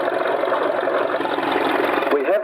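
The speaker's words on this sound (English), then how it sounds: "just have a listen to that motor. It's just purring without any hiccups." Engine of a 1924 vintage car idling steadily at close range, a smooth continuous mid-pitched hum with no missed beats, a brief rise near the end.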